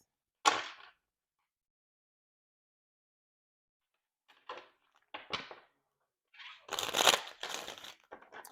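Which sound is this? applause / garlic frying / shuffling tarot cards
shuffling tarot cards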